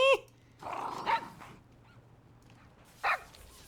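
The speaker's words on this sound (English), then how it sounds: "like even the NPCs that sell stuff now just bark at you." Dog-like barks from shopkeeper NPCs in World of Warcraft: a yip at the start, a longer whining bark burst near one second, and another short bark near the end, with quiet gaps between them.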